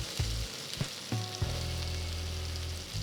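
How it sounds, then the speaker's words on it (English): Cooked taro root (arbi) pieces roasting in oil in a pan give a steady close sizzle, with a few soft bumps and scrapes as they are dropped in and moved around, no talk. "Gently drop in the arbi pieces and just roast them well on all sides."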